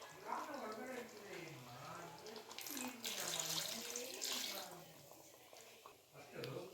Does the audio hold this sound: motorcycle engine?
no